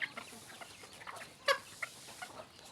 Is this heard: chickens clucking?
yes